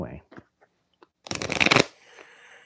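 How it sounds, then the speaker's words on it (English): A deck of playing cards being shuffled, a quick riffle burst followed by a softer cascade, close and crisp after a few faint taps and brief speech-like sounds at the start. "I can't even shuffle the cards"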